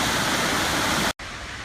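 Miners Falls at Pictured Rocks, Michigan, roars as a steady, loud, dense wash of falling water, broken by a brief cut before the rush resumes.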